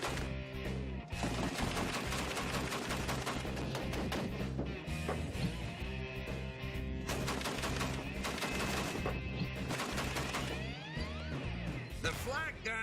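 A flak gun mounted on a half-track fires in a sustained, rapid burst of loud, dense shots, with someone talking over the din.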